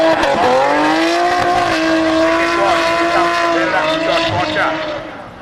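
A time attack race car running a supercharged VQ45 engine on 18-by-10 wheels screams past up close, its loud engine note rising in steady harmonic pitch and holding before fading slightly at the end.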